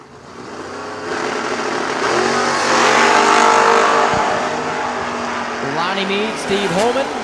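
A Chevrolet Camaro drag race car launches at a bracket drag racing event. A loud engine roar swells and holds, then fades as the car pulls away, with the track announcer talking over it.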